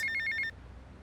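A phone rings in the video game GTA Vice City Definitive Edition, four rapid electronic trill bursts that stop abruptly after half a second, with no talking.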